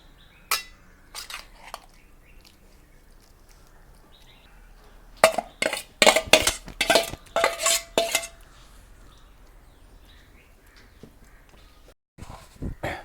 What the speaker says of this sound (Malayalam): ആ ചെമ്മീൻ മസാല ചേർക്കുകയാണ്